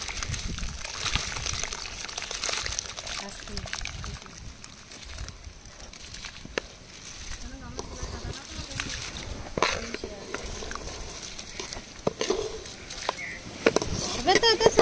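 Biryani rice is poured from a height into a pan of boiling water for chicken biryani, making continuous sloshing and gushing with a bubbling boil, under talk.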